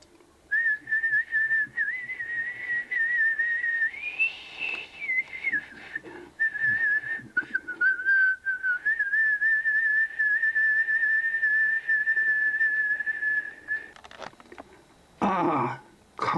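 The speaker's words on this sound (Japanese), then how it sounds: "少年の吹く美しい笛の音" A lone Japanese flute holds a long, high, breathy tone with gentle pitch bends, playing steadily before a brief rustle at the end.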